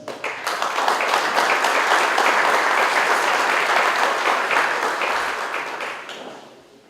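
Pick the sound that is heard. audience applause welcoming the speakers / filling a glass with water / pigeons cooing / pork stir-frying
audience applause welcoming the speakers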